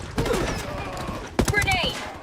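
Automatic gunfire in Ghost Recon Wildlands, a burst of rapid shots with a sharp louder crack midway, mixed with game effects and voices talking throughout.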